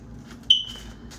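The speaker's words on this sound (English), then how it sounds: "my fire alarm is beeping in the background" A smoke or fire alarm in a home gives a single short, high-pitched electronic beep, faint and set back in the room against low background hum.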